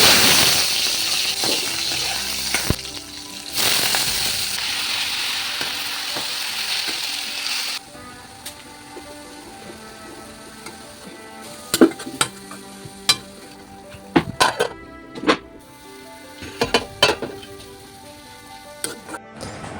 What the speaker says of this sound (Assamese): এতিয়া মই শাক ভাজিম